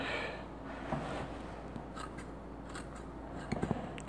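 Handmade Ernest Wright kitchen scissors snip through fresh parsley, giving soft repeated crisp cuts and light rustling of leaves, close and quiet, with a few sharper snips toward the end.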